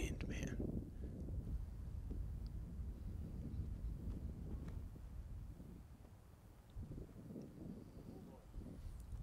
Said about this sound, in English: Look at this wind, man.